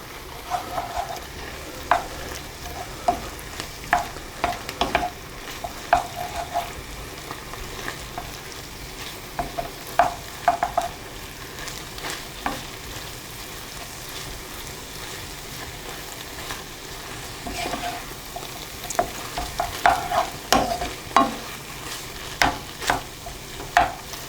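Minced steak pie filling stirred in a pan: a soft continuous sizzle runs underneath as a spoon repeatedly scrapes and taps the pan, coming in irregular bursts at close range.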